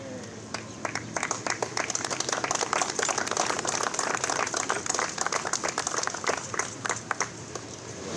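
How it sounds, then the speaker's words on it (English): An outdoor audience applauds Peter at a Fitchburg gathering, dozens of hands clapping in a steady, lively patter that holds for several seconds at moderate distance. "That's some applause for Peter"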